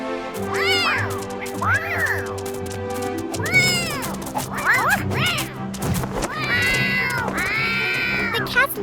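Many cartoon cats meow over one another in a loud, busy chorus of rising and falling cries, with crashing thuds and music underneath.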